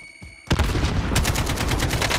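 Distant sniper gunfire in the Warzone shooter game, a sharp report after a brief lull followed by a sustained barrage of rapid shots and rumbling battle noise, loud and dense with no talk.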